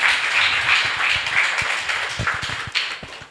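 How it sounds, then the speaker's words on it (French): A congregation claps together at a prayer service, a dense steady patter of many hands with a few sharper, louder individual claps standing out near the end. "Applaudis pour le roi des rois."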